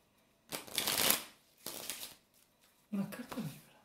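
A deck of playing cards is shuffled three times, each riffle a loud, close burst of rapid flutter and slap, separated by short pauses.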